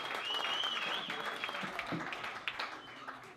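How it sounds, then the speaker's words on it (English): Comedy roast audience in a New Jersey club breaking into sustained applause, dense and even clapping that tapers slightly, with a bright high tone riding over it early on. "Give everybody a round of applause"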